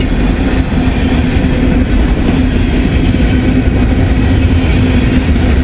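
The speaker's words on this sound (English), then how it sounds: "These trains are just one after another" A train rolls past on railroad tracks, one of several in quick succession, a loud continuous rumble with wheel clatter holding steady throughout, no voices.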